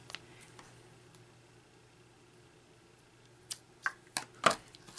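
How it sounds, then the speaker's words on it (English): A few sharp, quiet scissor snips cutting thread ends close by after a stretch of near silence, the last one loudest. "then you can just cut that with your scissors"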